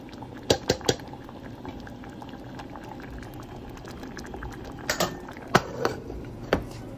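A pot of mung dal with fried eggplant bubbles on the stove, a low steady simmer broken by a few sharp pops and clinks near the start and again toward the end.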